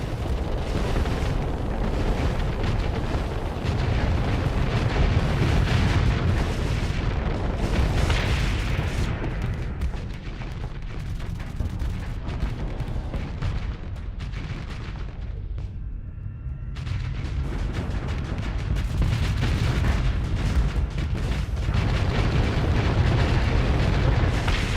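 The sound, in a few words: torpedo explosions in the video game Starsector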